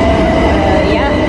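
An underground railway train rumbles loudly and steadily from inside a carriage, a dense, continuous roar over a short stretch with a faint screech near the end.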